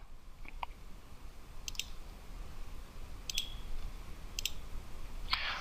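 Computer mouse clicks while selecting items and pressing a compare button in the Joomla 3 web interface, several faint, sharp, separate clicks spread over a few seconds against a steady quiet room hum.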